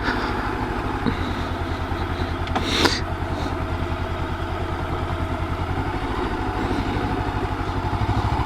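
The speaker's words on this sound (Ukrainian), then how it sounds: "Стає зовсім по-іншому їхати на мотоциклі." A motorcycle engine drones steadily while riding, with a brief rattle partway through; no voices.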